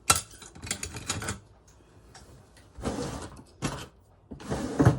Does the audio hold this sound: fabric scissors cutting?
yes